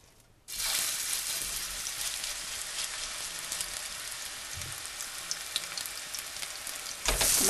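Thin ground turkey patties dropped into olive oil heated on medium in a pan, a sudden loud, dense sizzle that holds steadily for several seconds, with a brief louder flare at the end.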